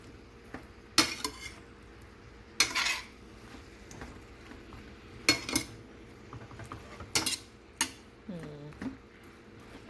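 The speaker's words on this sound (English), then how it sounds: "So I'm gonna add the eggplant. Stir it up, of course." A utensil scrapes and clinks against a pan as eggplant is stirred into a cooking dish of yellow squash and cucumber, several irregular clanks over a soft background hum.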